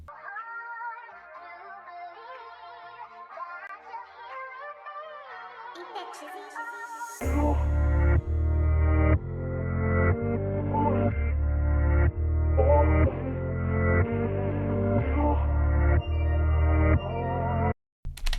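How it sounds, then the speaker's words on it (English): An R&B beat built on a flipped sample: a melodic intro with soft keys and plucked tones, then a heavy low beat kicks in with steady drum hits under a looping chopped melody, no voices. "let's go and listen to Chizzy's beat."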